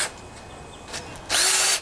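A power drill whirs briefly, pauses, then revs up loudly in a short high-pitched burst before cutting off.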